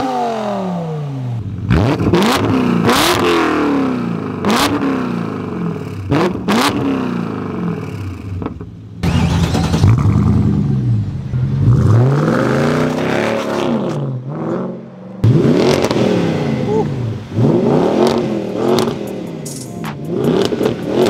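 A new BMW revving hard outdoors, its engine note rising and falling in repeated loud bursts with crackling exhaust pops between revs, continuous and close for around twenty seconds.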